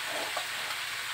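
Pork intestines (isaw) fry in a pan while being stirred, giving a brief, steady hiss of sizzling with a couple of soft scraping accents.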